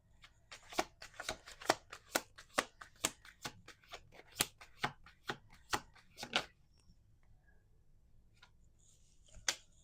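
Playing cards are riffle-shuffled in a rapid series of sharp, crisp snaps that run for about six seconds, then give way to near silence broken by a few faint handling sounds, with no talking.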